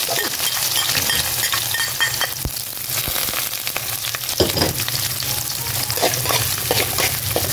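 Food fries in hot cooking oil with a continuous loud, crackling sizzle close up, broken by a few sharp clinks of a utensil against the pan.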